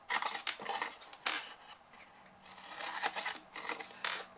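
Scissors cut through paper squares for a faceted gift box, giving a series of close, crisp snips and slicing swishes in uneven bursts with short pauses between.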